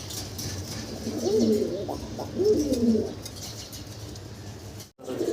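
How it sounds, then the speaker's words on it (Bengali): Kagzi pigeons, a large breed kept on a farm, coo in two soft low bursts, one after the other, close by over a steady background hum. "এটা কাগজি ভাই, কাগজি কবুতর, একবারে বাগদাদের মতো বড় সাইজ"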